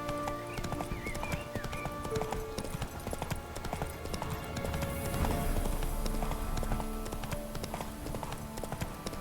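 Roach, a horse in The Witcher video game, gallops with rapid, continuous clip-clopping hoofbeats, loud and near, over layered game music, with a snorting whinny-like sound along the way.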